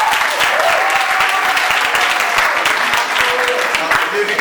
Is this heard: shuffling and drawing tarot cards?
no